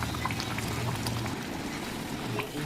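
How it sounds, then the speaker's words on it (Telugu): Telangana-style fish curry simmering in a pot, a steady close bubbling and gurgling with soft liquid pops, continuous and fairly quiet throughout with no talk. "పులుసు మరుగుతుంది."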